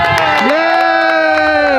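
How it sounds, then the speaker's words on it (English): A loud crowd cheers and shouts for a contestant at a chili eating contest in Ilocos Norte, Philippines, with strong, sustained voices filling the whole brief moment. "Round of applause for Chris."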